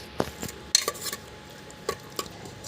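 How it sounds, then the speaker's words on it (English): A spoon stirs roasted cumin powder into rajma khichdi in a pot, giving scattered light metallic clinks and scrapes at an uneven pace over faint background noise, with no voices. "I'm going to mix it well"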